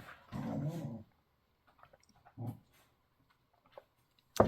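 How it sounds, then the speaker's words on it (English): Dogs growl in short bursts, a low rough snarl lasting about a second followed by a brief second growl and scattered faint sounds, fairly quiet in a calm room. "Dogs are doing some growls."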